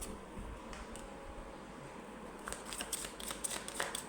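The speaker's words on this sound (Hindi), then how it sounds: "उसके लिए मैं एक एक कार्ड निकालूंगी" Tarot cards are drawn and shuffled close by, with quiet, soft riffling and light card flicks that grow busier and crisper in the second half.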